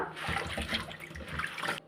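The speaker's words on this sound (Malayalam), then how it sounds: "ചീര നല്ലതുപോലെ കഴുകിയെടുക്കാം" Water splashes and sloshes close by in short, repeated swishes as leafy amaranth greens are rinsed and stirred by hand in a basin, ending abruptly.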